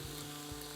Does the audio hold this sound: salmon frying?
yes